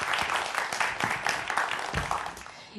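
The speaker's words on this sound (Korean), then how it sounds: "오늘 땀을 뻘뻘 흘리시면서 열정적인 강의를 해주신 우리 상무님께 다시 한번 큰 박수 보내주시기 부탁드립니다" A lecture audience gives a big round of applause to a company executive after his talk on mathematics and careers; dense, even clapping fills the whole stretch at moderate level before tapering slightly at the end.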